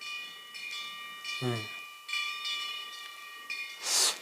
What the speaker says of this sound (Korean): 딸랑딸랑 바람에 흔들리는 풍경 소리